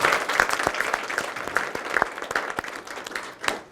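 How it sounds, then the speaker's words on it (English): An audience at a college of agriculture diversity student leader program claps for Dr. Richards, a dense round of applause with sharp individual claps standing out, close and sustained before easing off. "Can we please give Dr. Richards another round of applause?"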